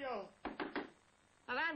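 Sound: knocking on a door

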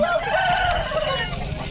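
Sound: rooster crowing at Gudur chicken market

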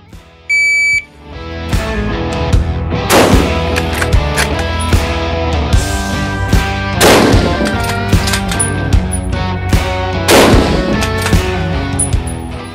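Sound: three aimed rifle shots at a timed target practice

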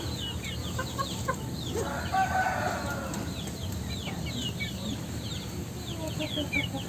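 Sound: young chicken clucking

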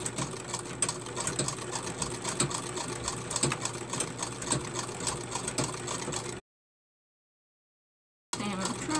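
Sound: 100+ year old treadle sewing machine sewing dice bags

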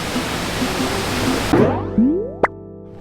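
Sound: waterfall

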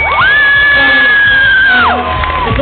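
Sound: audience applause and cheering at poetry show

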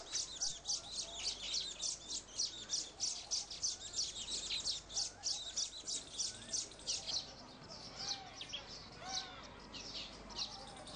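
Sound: baya weaver bird colony of males singing while building nests

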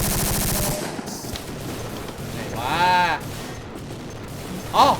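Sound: rapid gunfire in the video game Codename CURE

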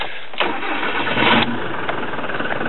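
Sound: Ford Transit Mk 6 diesel engine starting

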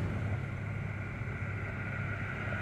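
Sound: car engine running rough and revving

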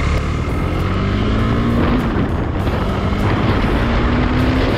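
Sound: KTM Duke motorcycle engine running low on fuel

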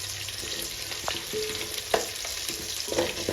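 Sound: onions and dried red chillies frying for pulao

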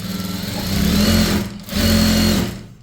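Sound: sewing machine stitching a chudithar top

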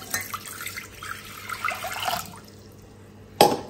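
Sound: water being poured into a saucepan for churros

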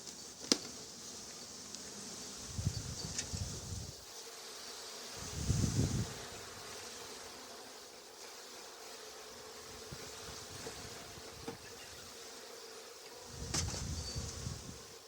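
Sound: honeybees buzzing at open hive

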